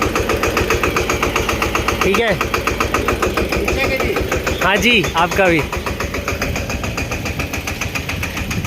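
A mixer tractor engine idles with a steady, pulsing chug close by at an agricultural research institute in Karnal, Haryana, while people exchange a few brief words over it.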